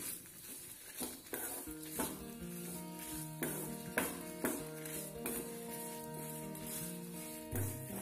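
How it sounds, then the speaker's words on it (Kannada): Masala roasting in coconut oil over a low flame, a faint crackle and sizzle with a few spoon scrapes against the pan, while a steady melodic tone plays underneath. "ನಂತರ ಇದನ್ನು ಲೋ ಫ್ಲೇಮ್ನಲ್ಲಿ ಸ್ವಲ್ಪ ಹುರಿಬೇಕು."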